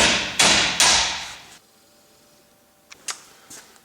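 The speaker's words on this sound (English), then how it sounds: "I can just go ahead and tap that on with a hammer" A hammer taps a CV joint onto a Honda axle, with three loud, ringing metallic hits in quick succession followed by a pause and a few fainter knocks nearby.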